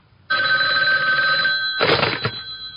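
A telephone bell rings in an office: a bright, steady electric trill that starts suddenly, runs for about a second and a half, then gives a shorter second burst.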